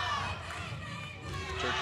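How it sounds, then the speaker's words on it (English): Spectators at a junior men's recurve archery team gold final between Italy and Turkey in Ankara, 2016, cheering for the Turkish team; a steady crowd roar with mixed voices runs throughout at moderate distance. "Turkey trying to cheer their team on."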